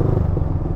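Stock muffler of a motorcycle exhaust while riding through central Jakarta, a steady low rumbling drone that stays loud and close throughout, with a little clatter.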